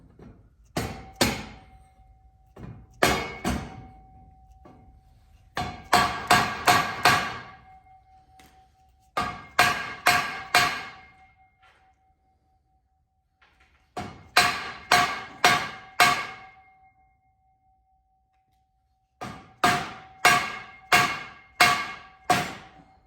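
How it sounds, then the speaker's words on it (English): Repeated heavy, dull dead blow hammer blows driving a drive shaft for a Ford F600, struck in bursts of three to five hits separated by short pauses, close and loud. "I'm going to start out with a dead blow hammer, and it should self-align itself once it goes in"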